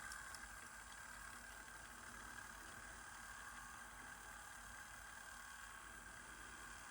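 Technics RS-B100 cassette deck winding a regular tape at speed in fast-forward or rewind, a faint steady whirring motor and tape hiss held evenly throughout.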